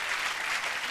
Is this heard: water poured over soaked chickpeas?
no